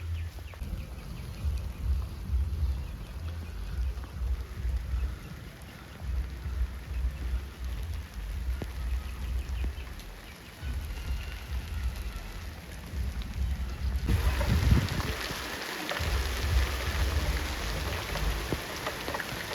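Heavy rain falls steadily outdoors, a dense continuous wash of drops that grows louder and brighter partway through, with no voices.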